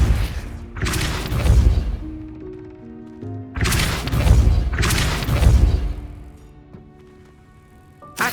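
Depulso force spell blasts in the video game Hogwarts Legacy land as three heavy booming thuds with rushing bursts, separated by short pauses, plus a brief hit at the very end.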